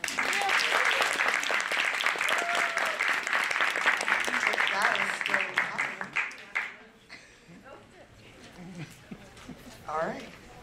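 Crowd at a Dr. Martin Luther King Jr. celebration applauding loudly and steadily as people head to the stage, then thinning to scattered claps with voices and a few whoops near the end.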